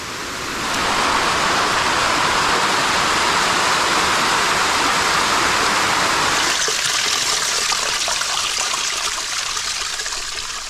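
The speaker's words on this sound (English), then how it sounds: "The way the water cascades reminds me of Twin Falls." A waterfall cascades in a loud, continuous rushing hiss that stays close and steady, easing slightly toward the end, with no talking.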